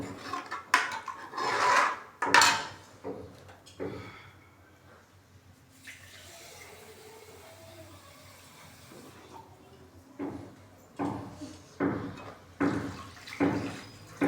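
Water poured into a metal cooking pot of black chickpeas, a soft continuous splash and trickle in the middle stretch, with clinks and knocks of the pot and utensils before and after.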